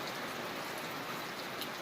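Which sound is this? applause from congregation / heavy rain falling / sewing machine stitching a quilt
heavy rain falling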